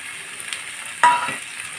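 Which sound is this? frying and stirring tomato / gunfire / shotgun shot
frying and stirring tomato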